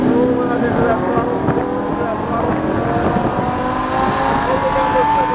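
A Lamborghini Huracan race car accelerating onto the speedway at Homestead, its engine droning loud and steady with rising harmonic tones and wind noise, a voice talking over it.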